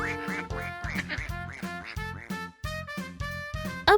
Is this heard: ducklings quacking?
yes